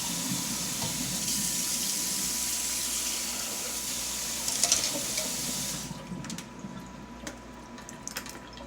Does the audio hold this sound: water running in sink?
yes